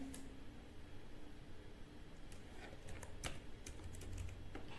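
Keys clatter on a computer keyboard as data is typed into a text file in the vim editor, a steady run of quiet, close clicks over faint background hiss with no talk.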